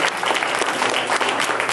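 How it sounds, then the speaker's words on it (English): A burst of enthusiastic applause from a crowd at a school learning celebration, dense clapping that stays steady and loud for the whole short stretch. "give them a big round of applause"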